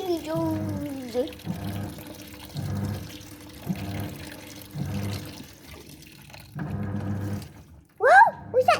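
Water sloshes and runs inside a washing machine in a steady, rhythmic churning pattern of repeated bursts, with people talking over it and an exclamation near the end.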